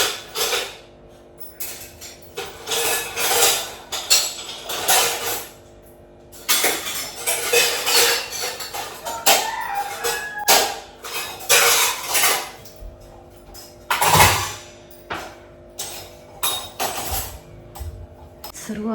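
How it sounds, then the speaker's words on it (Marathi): Steel pots, plates and cutlery clatter and clink while dishes are scrubbed and washed in a home kitchen, with irregular bursts of scraping and knocking, close and busy, separated by brief quieter gaps. "भांडी बिंडी घासून काढली."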